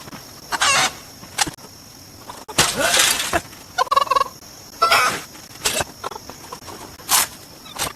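Chickens in a farming video game cluck and squawk in repeated short bursts, with a rooster-like crowing call among them, fairly close and loud over a quiet background.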